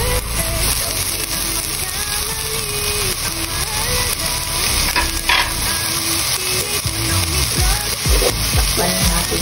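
Bamboo shoots, previously frozen, sizzle and fry in a pan while being stirred, with a continuous crackling hiss and occasional scraping clatters close by.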